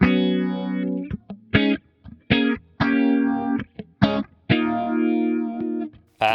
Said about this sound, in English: a phaser.